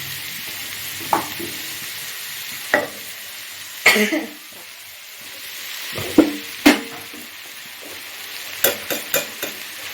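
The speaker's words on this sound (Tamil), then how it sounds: "போட்டு நல்லா வதக்கி விடுங்க" Soft sizzling as rice with turmeric and salt is sautéed for mango rice in a pan, with scattered clanks and scrapes of a spoon stirring, sparse and close, no talking.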